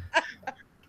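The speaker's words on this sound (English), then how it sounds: "Cough over my intro." Two short, close coughs from a person on a live Comic-Con talk show, a stronger burst followed by a fainter one, alone against a quiet room.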